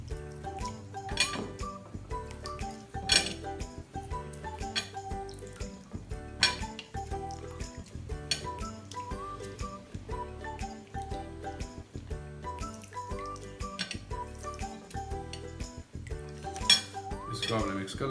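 A spoon clinks against a bowl while BBQ masala is mixed with vinegar, soy sauce and squeezed lemon, with steady light scraping and chinks over soft background music.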